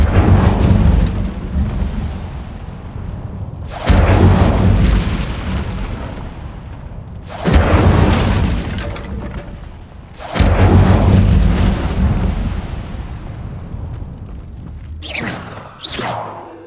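Incendio fire spell cast repeatedly in Hogwarts Legacy, four loud whooshing fiery bursts roughly every three to four seconds, each decaying into a rumble, followed by two sharp crackling pops near the end.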